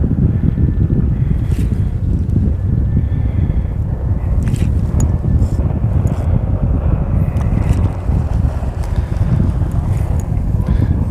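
Strong wind buffets the microphone steadily outdoors, a loud continuous roar with gusty rumbling and occasional knocks throughout.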